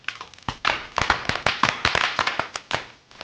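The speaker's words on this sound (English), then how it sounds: "This is some good bubble wrap right here." Thick bubble wrap being popped in a rapid, irregular series of sharp, loud snaps, some crackling bursts close together, heard near and without talk.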